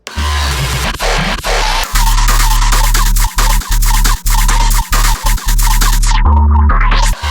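Hybrid trap drop built from original bass stems: loud, heavy bass hits in a choppy rhythmic pattern with short gaps between bursts and gritty textures on top.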